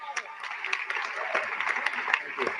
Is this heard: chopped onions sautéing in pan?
no